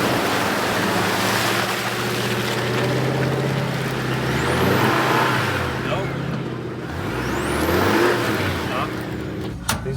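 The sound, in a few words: Hummer engine revving while driving through a flooded river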